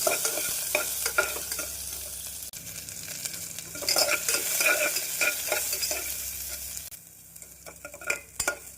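Onions sizzle and fry in hot oil in a cooker, with steady crackling and occasional stirring scrapes of a spoon against the pan.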